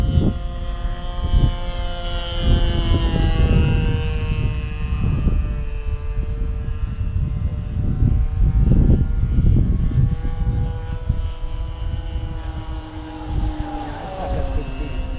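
A propeller airplane roars past at full power, its droning engine pitch shifting as it passes, with voices talking faintly underneath.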